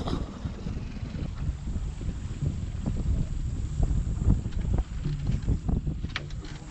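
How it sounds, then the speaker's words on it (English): Gusty wind buffets the microphone on a fishing boat out at sea, a steady rumbling roar with irregular surges throughout and no voices. "It's a bit windy."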